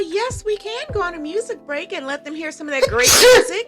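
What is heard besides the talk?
sneeze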